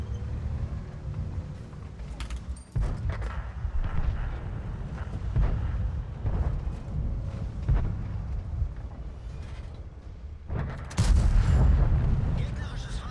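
Kanonen Jagdpanzer 105 tank destroyer main gun firing in World of Tanks: booming cannon blasts near 3 s and a louder one around 11 s, over continuous low engine rumble and battle noise.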